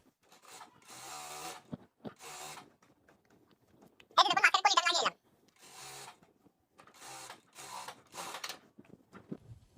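A sewing machine stitches the fabric of girls' half pants with piping in one short, loud, rapid mechanical burst of about a second. Speech comes before and after it.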